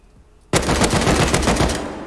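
An AK rifle in Rust lets loose a loud, sustained automatic burst of rapid, evenly spaced shots after a brief quiet start, the firing slowly fading toward the end.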